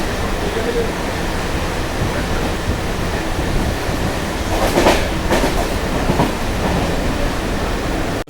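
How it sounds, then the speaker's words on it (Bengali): A Sealdah–Bangaon local train pulls out of Habra station, its loud continuous rumble carrying wheel clatter that swells in a brief burst midway. "আমাদের ট্রেনটা ছেড়ে দিল হচ্ছে হাবড়া স্টেশন থেকে"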